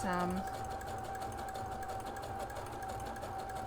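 A sewing machine backstitches at the start of a seam, its motor humming steadily and close through the short run while a voice briefly sounds at the very start.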